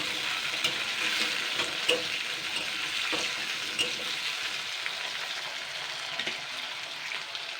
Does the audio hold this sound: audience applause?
no